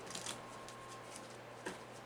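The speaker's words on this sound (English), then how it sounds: "you'll be able to actually hear me shuffling the cards" A deck of reading cards is shuffled by hand in soft, quiet bursts of riffling and flicking, close and faint, with no talking.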